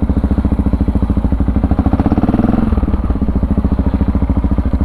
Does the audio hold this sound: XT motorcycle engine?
yes